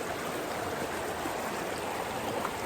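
Water rushes steadily along a stream in Andreas Canyon near Palm Springs, California, running swift after heavy mountain rain, a loud, continuous, close broadband flow with no voices.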